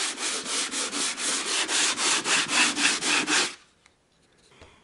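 A wooden surface being sanded with abrasive mesh in a handheld sandpaper holder: about a dozen even back-and-forth rasping strokes, loud and close, then stopping abruptly, with a faint knock afterward and no talk.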